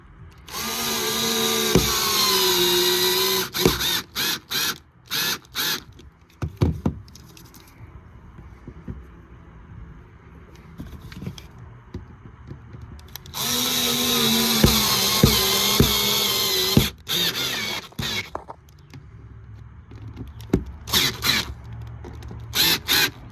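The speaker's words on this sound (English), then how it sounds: "I'm going to drill a pilot hole in those 4 corners and then insert the screws" Cordless power drill boring pilot holes into four corners while installing a golf cart lithium battery charging port, in repeated loud whining bursts of a few seconds each separated by quiet pauses.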